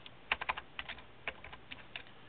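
Quick, light keystrokes on a computer keyboard sound close up in uneven bursts of several taps with short pauses, under a quiet room hiss and with no one speaking.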